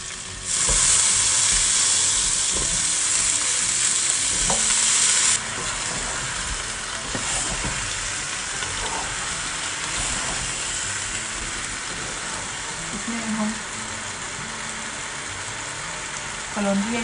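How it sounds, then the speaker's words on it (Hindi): Arbi (taro root) and brinjal fry in a pan with a steady, loud sizzle and hiss that fades slightly partway through, with occasional clinks of stirring and no talk. "इसको हम फ्राई करेंगे अच्छे से"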